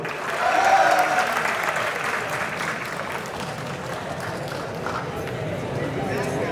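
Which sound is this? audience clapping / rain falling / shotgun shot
audience clapping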